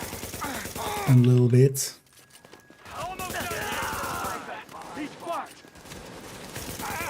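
Gunfire in The Division video game during endgame play: a loud burst of rapid shots in the first two seconds, followed by quieter in-game sounds while someone talks over the action.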